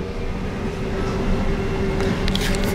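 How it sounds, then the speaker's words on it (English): Passenger train interior heard during a ride from a station, with a steady loud rumble and hum throughout and faint rattling clicks near the end, no talking. "Just made the train"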